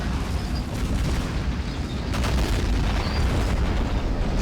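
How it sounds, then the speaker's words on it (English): Tank cannon fire and explosions in the video game Army Men of War merge into a continuous, loud rumble of booms and blasts, a dense battle barrage with no talking. "Taking heavy fire from the tanks now."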